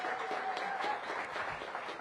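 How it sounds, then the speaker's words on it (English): Audience applause for a deputy mayor at a restaurant week kickoff event, a steady, fairly faint wash of clapping across the whole moment with no voices over it. "Give Deputy Mayor a big round of applause."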